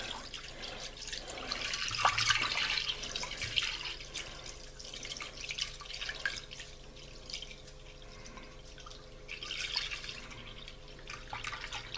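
Milk trickles and pours steadily into a pot for homemade yogurt, a soft continuous watery stream with faint drips, close by and without talk.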